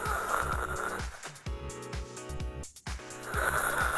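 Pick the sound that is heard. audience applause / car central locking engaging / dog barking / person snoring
person snoring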